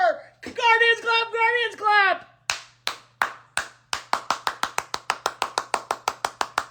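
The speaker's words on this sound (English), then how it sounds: "we're fucking clapping" Hands clap in celebration of a Cleveland Guardians 7-5 win over the Houston Astros; an excited voice comes first, then a close run of sharp, loud claps that quickens into a steady rhythm.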